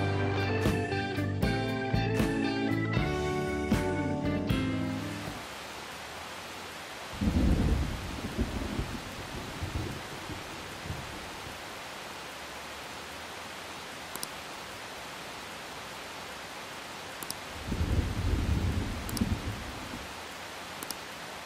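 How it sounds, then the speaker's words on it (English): Rain and thunder in the video game Persona 5 Royal: steady hiss of rain throughout after a musical passage fades, with two deep, rumbling thunder rolls rising and fading, no talk. "Rain, huh?"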